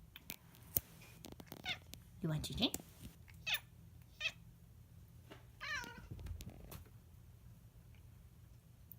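A pet cat named Gigi meows several times in short, clear calls, close by in a quiet room, while someone talks to it between the meows.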